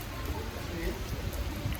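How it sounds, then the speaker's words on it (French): Heavy rain falls steadily, a continuous hiss of drops on surfaces with scattered pattering, moderately loud under nearby talk. "Il pleut vraiment beaucoup. Il pleut là."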